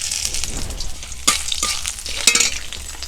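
White cumin seeds and chopped ginger hit hot oil in a heated pan, a steady crackling sizzle with a couple of sharper stirring clinks, close and alone without speech.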